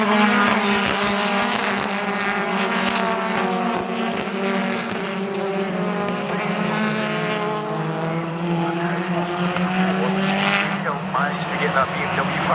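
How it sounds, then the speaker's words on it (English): BTCC touring cars racing at Knockhill, with several engines roaring and shifting pitch as they pass close by, and a commentator talking continuously over them. "Cam goes past him on the left-hand side on the run down towards Duffy's Dip"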